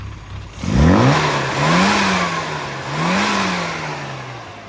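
A Mini Moke's engine revs hard on a road test drive, rising sharply and then swelling and falling through two more gear pulls, loud and close with no speech.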